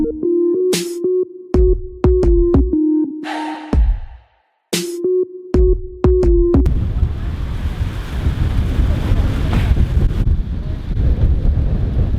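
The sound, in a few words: strong wind outdoors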